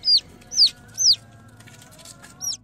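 A newborn chicken chick with an extra pair of limbs peeps in four sharp, high, downward-sliding calls, three in quick succession and one after a pause, close and clear over a faint low hum.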